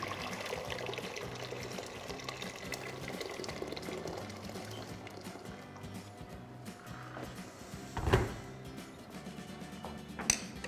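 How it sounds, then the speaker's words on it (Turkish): Quiet trickling water pours steadily into a cooking pot, with a couple of brief clunks near the end; no one speaks. "tencerenin içerisine suyumu bırakıyorum"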